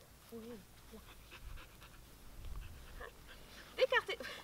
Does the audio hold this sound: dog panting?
yes